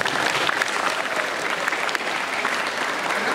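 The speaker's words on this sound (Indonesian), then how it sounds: "Tepuk dulu." A crowd at a Maulid Nabi gathering breaks into sustained applause, a dense wash of many hands clapping at steady loudness with no speech heard.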